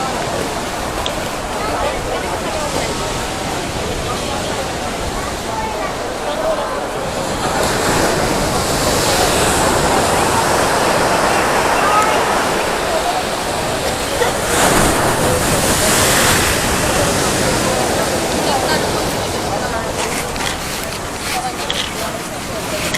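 Loud, continuous surf roars close by on a beach in La Union, Philippines, big ocean waves swelling and crashing in long surges, with wind buffeting the microphone.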